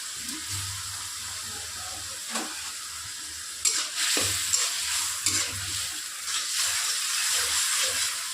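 Vegetables for a simple Bengali curry fry in a pan with a soft steady hiss, while a spatula stirs and scrapes in occasional bursts; close and fairly quiet.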